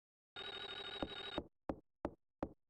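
A telephone rings in the Clock Tower Rewind video game as a steady, bright electronic ring for about a second. It is followed by three sharp, separate knocks or thumps, spaced evenly apart.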